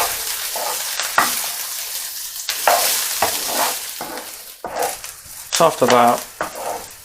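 Onions sizzle in a frying pan for corned beef hash, with scraping stirs and bursts of crackle close up, someone speaking briefly near the end.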